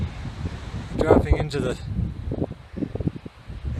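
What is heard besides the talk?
strong wind on Tehachapi Mountain during a hike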